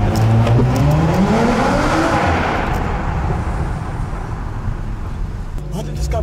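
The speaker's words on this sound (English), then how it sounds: "the C43 sounds crazy" A Mercedes C43 engine roars close by in a London car park, revving and climbing in pitch before settling into a broad rumbling drone that fades slightly toward the end.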